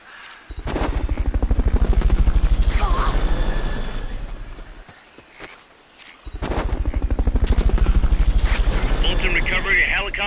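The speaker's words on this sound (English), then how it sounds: "Fulton recovery helicopter is complete." A Fulton recovery helicopter in the video game Metal Gear Solid Peace Walker, a loud, rapid rotor chop that drops away briefly and then returns, with a voice speaking over it.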